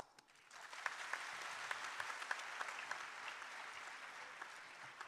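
Applause from an audience at a student interactive session in Srinagar, a steady, fairly distant wash of many hands clapping that rises quickly and continues evenly, with a few sharper individual claps standing out.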